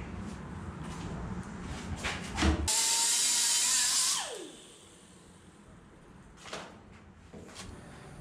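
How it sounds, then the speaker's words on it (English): A metal fuel tank pickup tube is cut with a tool that gives a short, piercing high-pitched whine for about a second and a half, winding down in pitch as it stops, between quieter handling clatter. "So I just cut that piece off there."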